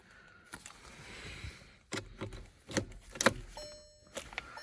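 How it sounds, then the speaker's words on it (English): A 2020 Volkswagen Jetta S being started with the key: close clicks and clunks, a brief key-and-switch rattle, then a short burst of engine noise inside the car, with no talking. "Now, as you get into the car, of course, we have to start it. On the Jetta S, we have to use the key."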